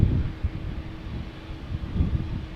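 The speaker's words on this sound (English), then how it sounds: "Listen to the engines." An Embraer E2 jet with geared turbofan engines departs Amsterdam Schiphol airport, heard as a low, steady rumble from some distance, mixed with wind buffeting on the microphone.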